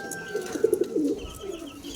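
A racing pigeon cooing up close, a soft run of low, throaty coos in the middle of the clip over light background noise, with a faint voice nearby.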